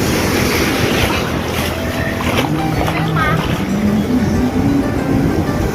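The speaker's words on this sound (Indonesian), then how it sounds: "berenang di ombak besar" Steady roar of surf and wind with constant broadband wash, big waves breaking nearby at Bosowa Beach, Makassar, a faint voice briefly audible underneath.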